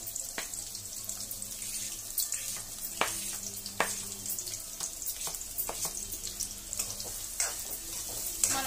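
Onions fry in heated oil for methi chaman, a soft steady sizzle broken by frequent sharp crackles and pops, with faint clinks of a stirring utensil.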